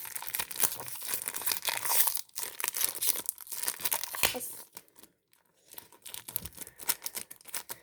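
Football sticker card pack being torn open by hand: close, crisp crinkling and ripping of foil wrapper in irregular bursts, with a short pause before more crackling resumes.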